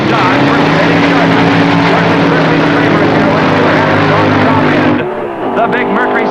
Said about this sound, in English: Into funny car action.